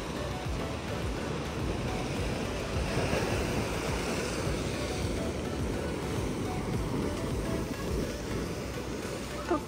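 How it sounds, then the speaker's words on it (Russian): Sea waves washing onto the shore at Odessa on a breezy day, a continuous rushing surf at moderate distance with wind buffeting the microphone throughout. "Волны поднялись, мы первый раз ехали сюда, не было волн."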